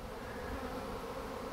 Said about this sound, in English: This other swarm over here is big enough that I believe that's probably a prime swarm